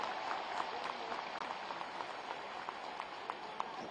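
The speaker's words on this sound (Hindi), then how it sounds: "इनको एक बार बताइए अपनी तालियों के शोर से कि छत्तीसगढ़ कैसे सुनता है" An audience at a live poetry recital in Raipur, Chhattisgarh, applauds with fairly distant, sparse clapping and crowd noise, individual claps standing out irregularly at a modest level.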